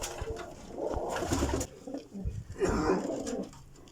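Teddy pigeons coo in low, throaty bursts, two main rounds of calls nearby with brief pauses between them.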